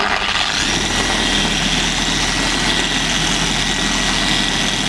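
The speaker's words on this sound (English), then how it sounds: "You set the polisher to a low speed such as 1 or 2, and when you're ready, you switch on the machine" A car polisher runs at a low speed setting on a car being detailed, giving a loud, steady motor whir with a constant low hum that continues evenly throughout, with no talking.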